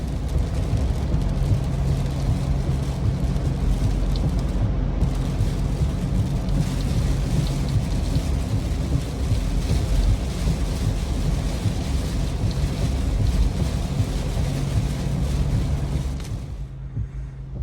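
Heavy rain and thunder of a storm drum on a car while driving on the road, a steady loud wash of rain on the roof and windscreen with low rumbling throughout, easing slightly near the end.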